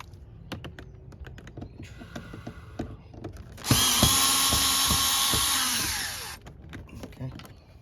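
A power screwdriver backs a screw out of a Toyota Camry door panel, a steady whirring burst of a few seconds standing out over light clicks and handling noise at close range.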